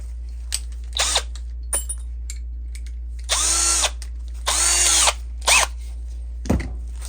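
A power drill spins a brass lap against a rifle crown, in several short bursts with pauses between, run forward and reverse with lapping compound; whirring stays close and fairly loud with no talk.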